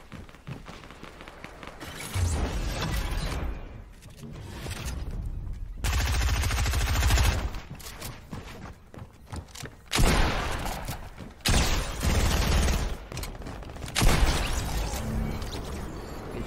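Bursts of video game gunfire in a battle royale match: several dense volleys of rapid shots and thuds arrive in clusters separated by brief lulls, loud and close, with no talking.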